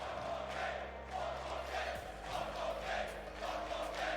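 An esports arena crowd at a Rocket League RLCS Spring Major lower quarter final chants in rhythmic swells, loud and sustained, with voices rising and falling in repeated waves.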